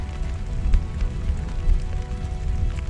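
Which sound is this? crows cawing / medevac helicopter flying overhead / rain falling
rain falling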